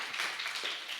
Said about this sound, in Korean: 박수 한번 칩시다 우리